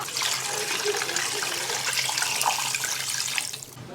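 Water being poured into a braising pot of beef hoof with spices and caramel color, a steady loud rushing splash lasting a few seconds before tapering off.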